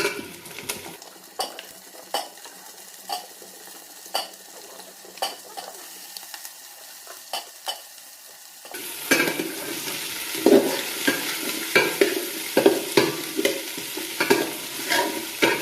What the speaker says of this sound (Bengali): এখন সব কিছু খুব ভালোভাবে মিক্স করে নেবে